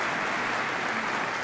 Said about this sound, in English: I'd like everyone to give a round of applause to Corey and Matt